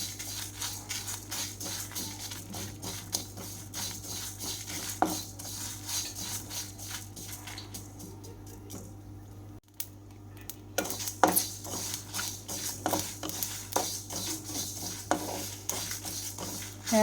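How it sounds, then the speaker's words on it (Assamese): Spices for a sweet-sour olive pickle fry in a pan while a metal spoon scrapes and clinks against it in irregular strokes, over a low sizzle and a steady background hum, with one brief gap in the middle. "এইখিনি একেলগে দি এতিয়া অকণমান ভাজি ল'ম"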